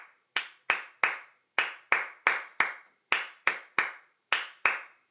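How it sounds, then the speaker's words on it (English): Sharp, close hand claps repeat in a syncopated partido alto pattern, grouped in uneven clusters with short gaps, forming a looping rhythm with no other sounds. "where I based the entire chorus secondary pattern around a Partido Alto."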